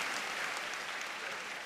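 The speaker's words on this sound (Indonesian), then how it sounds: "Tepuk tangan untuk Bung Karno yang telah memproklamirkan itu." Brief burst of audience clapping at a national independence anniversary gathering, an even, continuous patter of many hands without voices.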